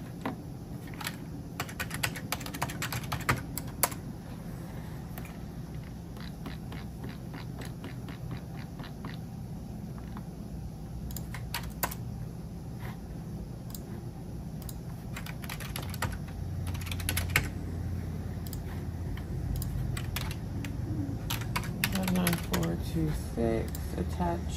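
Someone in a remote medical coding setup types a code on a computer keyboard, with clusters of close, crisp key clicks in short bursts separated by pauses, while a voice talks quietly.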